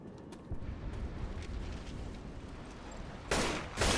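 Rifle fire from an AK in a video game, with a dense, sustained burst of gunfire throughout and two louder, harsher bursts close together near the end.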